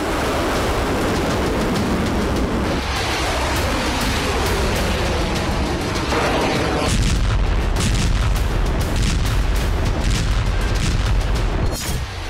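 Russian artillery strikes on Ukraine in the Odesa and Pervomaisk area come through as dense, continuous rumbling booms and crackling blasts that run loud and unbroken for the whole stretch, with no voices.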